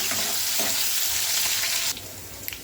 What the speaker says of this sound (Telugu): ఇలా వేసుకుని అన్నీ ఫ్రై చేసుకుందాము.